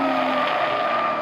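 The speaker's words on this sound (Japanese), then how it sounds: "加速した時の排気音なんかもちょっと振動が少なくなってるかな" Nissan GT-R Egoist exhaust droning steadily while accelerating, a sustained even engine roar heard from inside the leather-trimmed cabin with no break.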